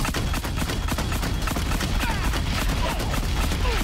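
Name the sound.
mine launcher shots in the video game Horizon Zero Dawn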